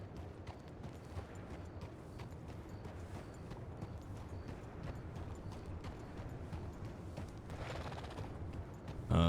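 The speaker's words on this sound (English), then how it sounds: "I hear another horse." Horse hooves clip-clop steadily in Red Dead Redemption 2 on a ranch, a soft continuous patter of hoofbeats under a low rumbling background that swells slightly at the end.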